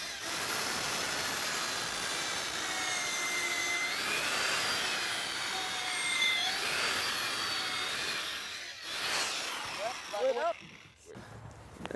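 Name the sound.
drilling a hole in a wooden deck post with auger bit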